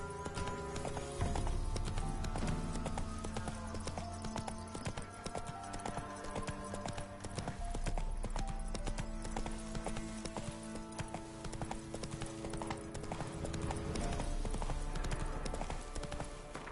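Horse hooves clip-clop steadily in The Witcher 3, the mount trotting in a continuous rhythm throughout over a dense bed of game music and ambience.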